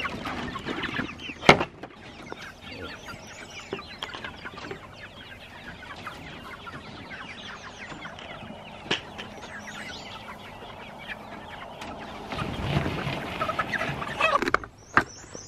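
A flock of Freedom Ranger meat chickens clucking and chattering continuously, with a few louder squawks and a brief sharp knock partway through.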